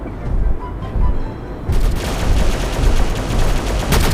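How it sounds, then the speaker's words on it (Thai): Heavy gunfire in a shooting video game, loud continuous bursts of automatic fire and booming shots with bullets cracking in, dense and close throughout with no pauses. "ร้อนนะเนี่ยลูกกระสุนมา"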